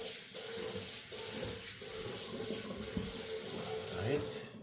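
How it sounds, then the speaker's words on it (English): A cutting board rinsed under a running tap at a kitchen sink: a continuous, fairly close stream of water with shifting splashes as the board moves through the flow. "Get my board washed off."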